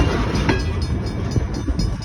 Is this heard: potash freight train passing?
yes